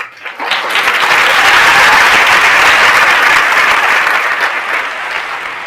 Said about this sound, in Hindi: अब जब मैंने ये बोला, आपने तालियां बजाई